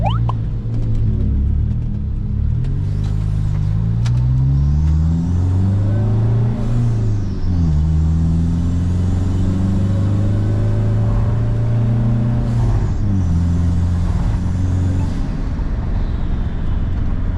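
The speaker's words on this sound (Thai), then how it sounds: "แค่แตะคันเร่งนี่รู้เลย" A tuned car's engine revs repeatedly as the throttle is pressed, rising and falling in loud, close surges of mid-range rumble that climb several times over about seventeen seconds.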